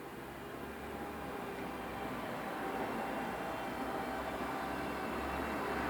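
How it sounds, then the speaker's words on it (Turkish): A drone flies overhead outdoors, giving a steady, moderately faint whirring drone that swells slightly louder over several seconds with no talking. "Bak bak bak drone uçuruyorlar."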